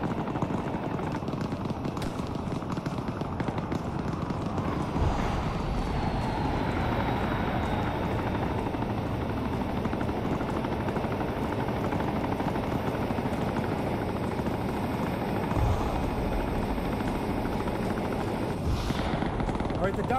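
An Arma 3 military helicopter drones with a loud, continuous rotor roar that holds steady throughout, with voices partly buried beneath the engine noise.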